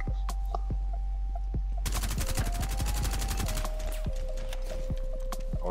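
Rapid automatic gunfire in the online shooter Rainbow Six Siege, a fast dense burst of sharp cracks lasting a couple of seconds over steady game hum and tones, preceded by scattered faint clicks and followed by isolated shots.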